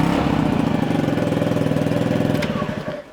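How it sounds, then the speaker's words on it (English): Honda Zoomer scooter engine idles roughly without its exhaust pipe, a close, loud, uneven putter with a fast chugging pulse that fades slightly toward the end. "The bike sounds a bit rough, needs an exhaust pipe."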